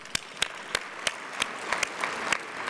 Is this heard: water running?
no